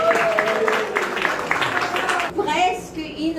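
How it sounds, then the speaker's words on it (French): An audience applauds at a French comedy show, a dense burst of clapping that stays fairly loud for about two seconds and then cuts off abruptly. "Applaudissements."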